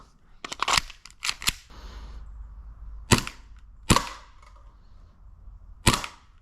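SSP-18 airsoft pistol fitted with a laser, fired from the hip: a quick cluster of sharp snapping shots, then single crisp cracks spaced about a second apart, loud and close with no talking.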